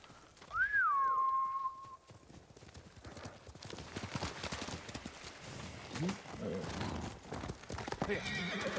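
A horse whinnies loudly near the start in Ghost of Tsushima, followed by a steady clip-clop of hooves under ambient game sounds and scattered noises.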